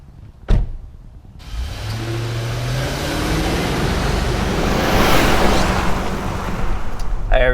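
A 2021 Nissan Armada Platinum pulls away after a door thump, its engine and tire roar swelling into a steady, loud rush of road noise heard from inside the cabin, with no talking.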